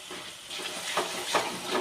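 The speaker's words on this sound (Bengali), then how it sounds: "কাজু বাদাম বাটাটা দিয়ে মশলাটা আরও কিছুক্ষণ কষিয়ে নেব" Masala spice paste with cashew paste frying in a pan for chicken do pyaza, a soft steady sizzle with a few brief louder stirring swells, close and alone.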